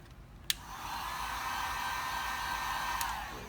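A heat gun blows steadily on headlight tint film for a BMW F30 335i, a close, even whooshing drone that starts with a sharp click and runs unbroken for about three seconds before easing off.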